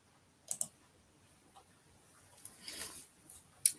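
A computer mouse gives a couple of sharp, quiet clicks close by, followed by faint tapping and another click at the end, with no talking.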